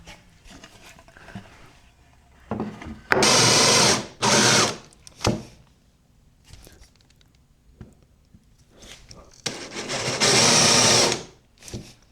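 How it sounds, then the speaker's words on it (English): A power drill bores holes in wood in three loud bursts, each a second or two long, with quieter pauses and small handling clatter between them. "So next up, we need to drill all the holes that are gonna, you know, let the marble sit"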